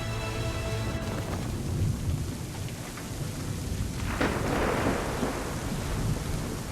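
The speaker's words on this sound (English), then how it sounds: "I'd say it's high time we find some cover from this storm" A heavy thunderstorm in Assassin's Creed III, with steady loud rain pouring down and a rolling thunder crack partway through, no voices over it.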